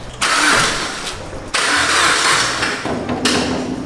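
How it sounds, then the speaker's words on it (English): Car engine cranked by the starter and firing up in a workshop, loud and close, with repeated cranking surges and revs across a few seconds. "Wait, I'll put the battery on, just crank it."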